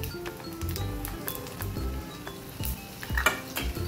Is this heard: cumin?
yes